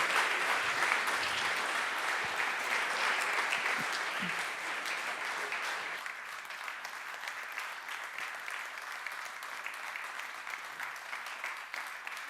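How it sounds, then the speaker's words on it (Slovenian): Audience applauding at an award ceremony, a dense, steady clapping that fills the whole stretch and eases slightly in level partway through, with no talk over it. "zdaj ploskamo podelitvi priznanja mojemu diabetologu"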